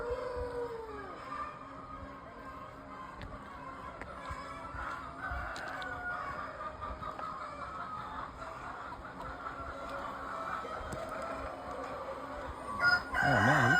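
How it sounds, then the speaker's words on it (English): A big rooster crows on a farm in Ghana, its drawn-out call rising over a steady background of outdoor noise and distant machinery from land excavation. "Oh man, you got the big chicken."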